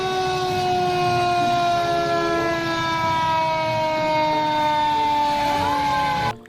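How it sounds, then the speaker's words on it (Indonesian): A toy fire truck wails with a steady electronic siren, loud and close, sustained for several seconds before cutting off abruptly. "ternyata ada mobil pemadam kebakaran"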